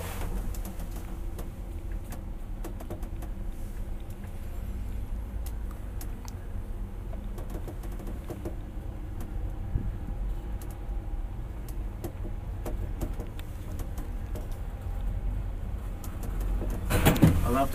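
An old Kone traction elevator in a Helsinki apartment building runs during a ride, giving a quiet, steady low hum with scattered faint clicks that swells into a louder burst at the very end.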